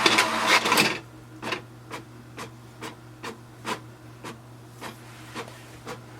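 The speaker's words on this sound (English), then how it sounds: "Now it's going to print." HP Deskjet 3700-series all-in-one inkjet printer printing a copy: a short burst of whirring feed noise, then a steady series of soft rhythmic clicks from the print carriage over a low motor hum.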